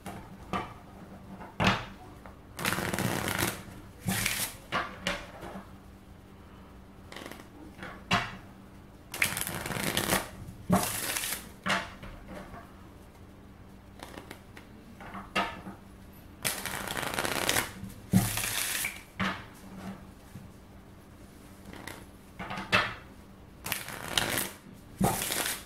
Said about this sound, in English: I'm going to do a shuffle them.